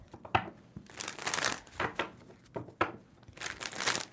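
A tarot card deck is shuffled by hand in several quick bursts of crisp riffling and rustling, close and fairly quiet, with short pauses between shuffles.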